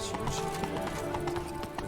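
Roach, a horse in The Witcher 3: Blood and Wine, galloping with a quick, continuous clip-clop of hooves under game music and a voice talking.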